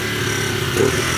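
A motorcycle engine runs steadily at a loud, constant idle-to-mid throttle as a learner rider holds the revs, with a slight swell near the end and no talk over it.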